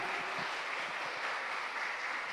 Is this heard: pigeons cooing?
no